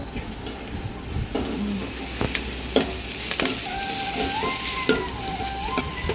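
Onions frying with curry leaves in a pan while being stirred, giving a continuous close sizzle with occasional scraping and tapping from the stirring utensil.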